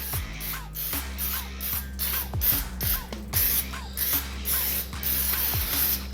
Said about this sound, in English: We're just going to spray the surface of this rack.